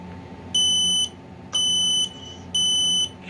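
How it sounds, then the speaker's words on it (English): A Kidde TrueSense 2070 VDSR photoelectric smoke alarm gives three loud, piercing half-second beeps in a steady, evenly spaced rhythm, close to the listener, with a low hum underneath and no talk. "we have a Kidde TrueSense 2070 VDSR photoelectric with a very weird voice"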